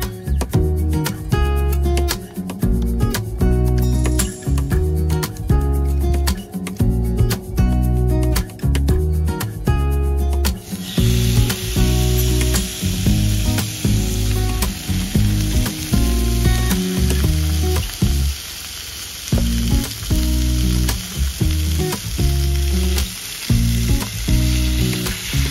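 Sliced sirloin steak fries in bacon fat in a pan, giving a loud, steady sizzle that swells noticeably partway through, with music playing underneath the whole time.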